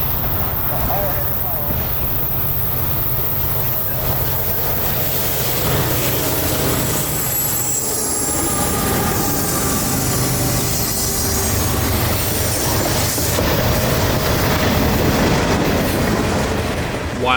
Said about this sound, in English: today's iteration of M441 would just so happen to have one of CSX's Flared SD70 rebuilds in the lead